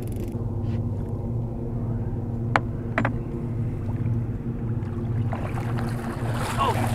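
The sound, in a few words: loud hovercraft passing on the river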